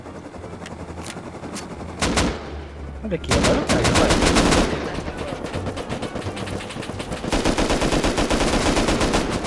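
Bursts of automatic gunfire in the survival video game Rust ring out loud and near, in several volleys with brief gaps, while someone briefly speaks under the shooting.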